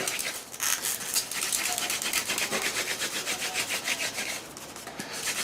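A hand drill spindle of sotol spins against a sotol hearth board, making a rapid, rhythmic wooden rubbing and grinding that is loud and close and keeps going with only brief pauses and no talking.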